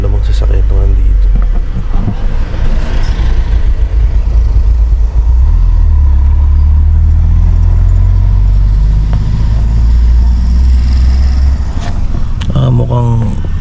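Steady low engine drone from a parked Mitsubishi Mirage G4 in an open parking lot, idling with its air conditioner running, a constant loud hum lasting throughout with faint wind and distant traffic over it.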